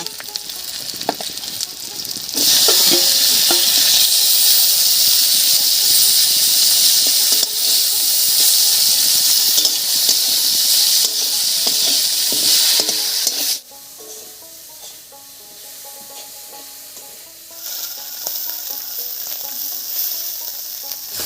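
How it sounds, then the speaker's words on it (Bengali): Marinated dried fish (shutki) and onion sizzle loudly in a pan while frying, a steady bright crackle that continues throughout and eases slightly in the last stretch, with occasional stirring clinks and no talk. "মাছ মাছ পেঁয়াজ সবই খুব সুন্দর করে ভাজা হয়ে গেছে"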